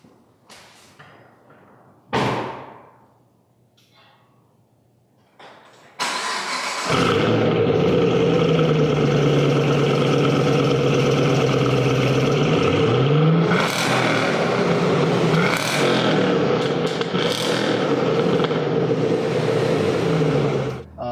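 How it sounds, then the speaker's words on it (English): A car door thuds shut, then a 2013 Chevrolet Camaro ZL1's V8 engine roars to life nearby, holding a loud rumbling idle punctuated by several sharp revs. "let you get a nice exterior sound note of that motor"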